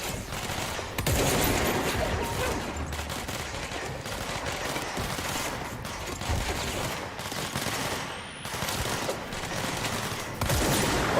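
Sustained gunfire in the video game Control, dense rapid bursts of automatic shots and crackling fire rattling almost continuously at close range, with brief dips between volleys.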